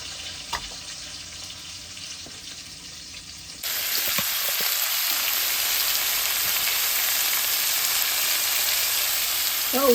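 Garlic, curry leaves, mustard seeds and fennel seeds sizzle in hot oil for a Jaffna-style wedding eggplant curry, a steady close frying hiss that jumps louder partway through and then holds.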